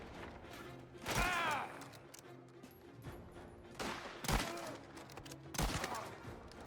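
Gunfire in the crime game Mafia: The Old Country: several sharp shots and short bursts crack out over a low ambient bed, spaced a second or two apart at moderate loudness.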